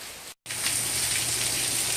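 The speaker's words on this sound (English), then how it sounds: "The rain's gotten a little bit harder." Hurricane Irma rain pours down steadily in Central Florida, a loud, dense, close hiss of drops on surfaces that fills the clip after a brief cut to silence near the start.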